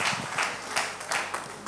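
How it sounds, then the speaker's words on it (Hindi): Audience applause at a gathering, a steady wash of many hands clapping with a few louder swells, moderately loud and continuous without speech. "तालियां दोस्तों"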